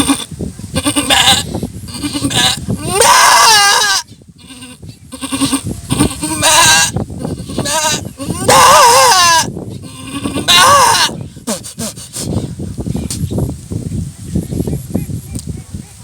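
A voice imitates a goat bleating while giving birth, several loud quavering bleats in bursts separated by short pauses, close to the listener.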